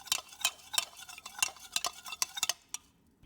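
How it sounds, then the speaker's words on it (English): A spoon stirs salt into high-proof white wine in a container, knocking and clinking against the sides in a quick, irregular run of sharp taps for about two and a half seconds before stopping. "Stir for a while to completely dissolve the salt"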